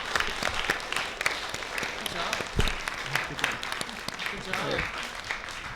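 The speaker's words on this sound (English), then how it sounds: "Let's give a round of applause for all of our candidates." An audience at a student executive candidates' debate applauds, a dense wash of clapping from many hands that persists throughout, with a voice speaking over it.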